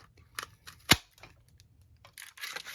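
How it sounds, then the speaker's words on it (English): A bow punch clacks through olive cardstock in one sharp, close snap, surrounded by quieter handling clicks and rustles of paper on a table. "we are going to use the bow punch"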